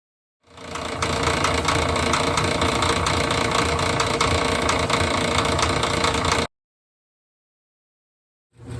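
A vintage 1990 Speed Queen heavy-duty washer running with a replacement pump gives a steady, loud mechanical hum with faint rattling for about six seconds, then cuts off abruptly before starting again.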